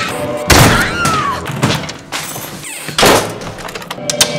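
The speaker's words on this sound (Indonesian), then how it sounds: "setelah pintu dijebol sama Carlos" A door is forced open in the 2007 horror film The Orphanage, with three heavy, loud thuds and bangs spaced about a second apart and scraping noise between them.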